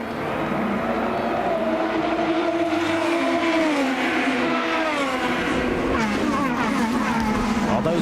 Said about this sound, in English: Let's listen, going through the gears up to 160 miles an hour to turn 1.